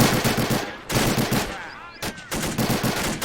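Rapid bursts of 30 cal machine gun fire in Men of War: Assault Squad 2 during a Battle of Saipan beach landing, several loud rattling volleys separated by short pauses, with a whistling streak between bursts.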